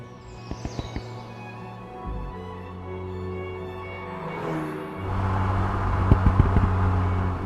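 An Alpine A110 sports car drives on the road, its engine humming steadily with gear changes shifting the pitch and a louder rise near the end, heard from inside the car with a few clicks.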